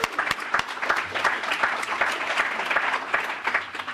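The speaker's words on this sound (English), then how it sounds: "I just want to give you another round of applause" Panel audience applause, a steady wash of many hands clapping at moderate volume, continuous throughout with no talking over it.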